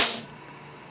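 A single sharp pop from a WG P230 Phantom airsoft gas pistol firing, close and loud, with the crack dying away quickly into near quiet.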